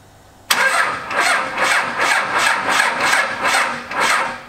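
An old truck engine cranks over with a sudden start, then a steady rhythmic churn of about eight loud, close starter pulses, coming close to firing but never catching.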